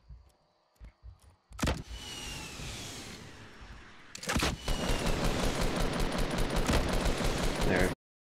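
Rockets launched and exploding in the Fortnite video game, heard as a few sharp bursts followed by a loud, sustained roar of blasts and rumbling that cuts off abruptly.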